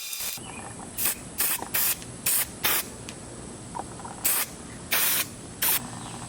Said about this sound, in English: I'm only gonna paint the ladder section with the Raptor liner.